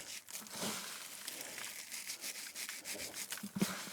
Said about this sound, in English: I'll take them, rub them together between my hands.